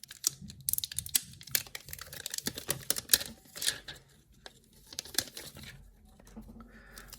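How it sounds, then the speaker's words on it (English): Protective plastic peels and crinkles off a G-Shock Frogman GWF-A1000BRT-1 watch, close, with irregular bursts of crisp crackling and ticking clicks. "let me remove this here plastic so we could get a good look at the watch."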